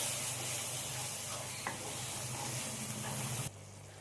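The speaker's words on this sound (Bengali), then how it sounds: "দিয়ে আমি সমস্ত মশলা ভালো করে কষিয়ে নেব।" Spices with salt and Kashmiri chilli powder sauté in a pan for a surmai fish curry, giving a loud, continuous close frying hiss with one brief knock midway before the sizzle abruptly drops away near the end.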